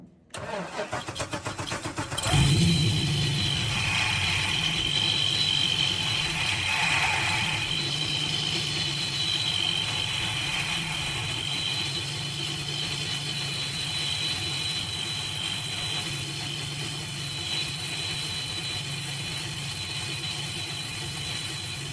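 The engine of a car that has sat unused for a while cranks and catches after a couple of seconds, then settles into a steady, rumbling idle that continues close by.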